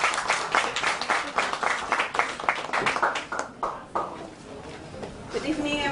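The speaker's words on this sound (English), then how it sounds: "let's give a big round of applause for Lenny." Audience clapping at an appreciation event in an Italian restaurant in Jakarta, a dense burst of applause that swells, thins out toward the end, and fades, with some voices mixed in.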